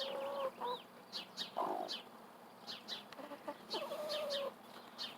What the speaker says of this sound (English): This is a broody chicken.